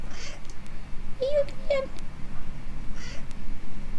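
A pet cat meows twice in quick succession at close range, short chirpy calls that fall between a woman's spoken words in a knitting podcast.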